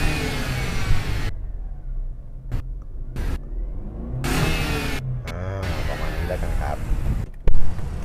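Mercedes-Benz C200 Kompressor W204 engine revving toward about 4,000 rpm, a close, rising mid-pitched roar broken by sharp gaps and bursts, with a voice talking over parts of it.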